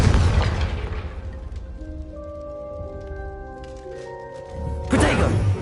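A Confringo spell explosion in a video game: a loud blast opens, decays into sustained tonal magical ringing with several overlapping held notes, then a second burst hits near the end, with no talk.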